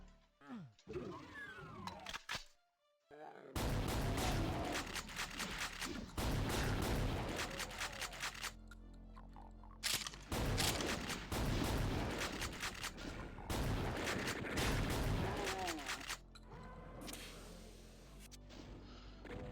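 Chaingunners in Doom II's Hellbound map, firing long rapid bursts of loud, dense gunfire that stop and start repeatedly, with brief quiet gaps between volleys.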